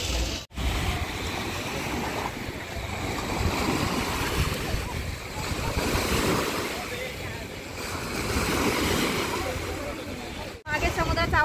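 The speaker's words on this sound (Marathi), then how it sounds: "मागे समुद्राचा आवाज खूप जोरजोराचा येत आहे" Sea surf rolls in loudly at the shore near Rameswaram with a broad, continuous wash that swells and recedes in slow waves, mixed with wind buffeting the microphone and brief dropouts.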